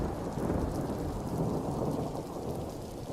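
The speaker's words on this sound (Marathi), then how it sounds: "जेव्हा जग बंद होते आणि वादळ सगळे आवाज दडपून टाकतं" A thunderstorm with heavy rain: a dense, steady downpour hissing on surfaces with low rolling thunder underneath, unbroken and fairly loud.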